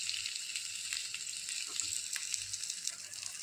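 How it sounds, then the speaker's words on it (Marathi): Mackerel frying in a pan gives off a faint, steady sizzle with soft crackles, heard alone. "दुसरी बाजू आपण फ्राय करून घेऊ."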